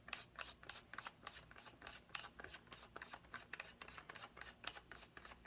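A barrel extension is screwed onto an HDR 68 marker, giving a steady run of close raspy ratcheting clicks in an even rhythm with no voices.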